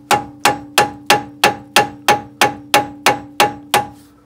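A hammer strikes metal in a steady run of about a dozen sharp, ringing blows, close and loud, each with a short metallic decay, during work on a faulty Audi A4 in a garage before its MOT.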